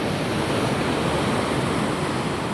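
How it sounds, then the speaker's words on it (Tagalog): Heavy sea surf roars steadily as big waves crash around small boats making a risky crossing, a dense, loud and unbroken wash of water and wind noise with no voices. "sumabong na sa alon, oh"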